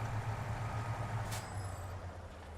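A truck's air brakes in the SnowRunner video game give a short, sharp high squeak near the middle of the clip. A steady low engine rumble runs underneath throughout.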